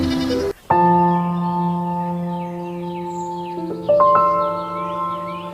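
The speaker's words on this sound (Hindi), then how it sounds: "पास ही अंधेरे में एक बकरी मिमियाते हुए गुजर जाती है" A goat bleats in a dark village setting near a temple at night, a sustained, tonal cry that wavers and shifts pitch, close and fairly loud, heard alone without any talking.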